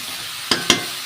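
Vegetables with grated coconut frying in a pan for a vegetarian dish, a steady soft sizzle broken by three short stirring scrapes, close by with no voices.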